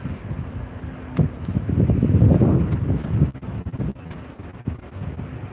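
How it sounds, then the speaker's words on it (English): Strong wind gusting at around 30 to 35 knots on the deck of the cruise ship MS Rotterdam leaving Amsterdam, a loud rushing buffet that swells and drops against the microphone, with no talking. "It's the wind. It's whipping like 30, 35 knots here."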